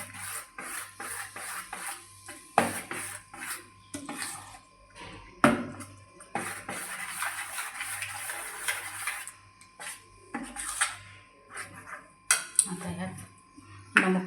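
A spoon scrapes and clinks against a bowl while jowar dhirde batter with lemon juice is stirred, giving intermittent close taps and wet swishing sounds in irregular bursts.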